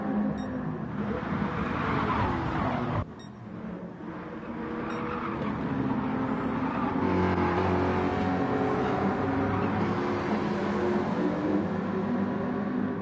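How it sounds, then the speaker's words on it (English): A pack of touring cars races downhill at Brands Hatch in a PlayStation racing game, their engines droning together in a continuous loud roar that dips briefly before swelling again with layered revving. "It is a train of touring cars heading down the hill."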